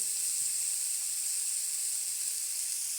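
Tomato and capsicum sizzle as they hit a hot pan for vegetable paratha filling, a steady, even hiss of frying holding constant throughout with no pauses or voices.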